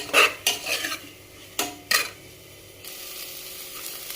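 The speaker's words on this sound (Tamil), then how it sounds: "ஆனியன் வதங்கும் போதே ஒரு கொத்து உரிச்ச கருவேப்பிலை போட்டுருங்க" A spoon scrapes and clinks against a pan as onions sauté with a handful of curry leaves for mutton kuzhambu, with a soft sizzle underneath and a few sharp metallic knocks, close and with no talking.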